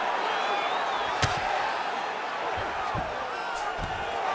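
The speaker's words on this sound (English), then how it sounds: "you heard the crowd pop after that grueling ground battle" A crowd in the UFC 5 video game roars during a simulated women's mixed martial arts bout, a steady broad cheer with scattered thuds and slaps from the fighters, under talk.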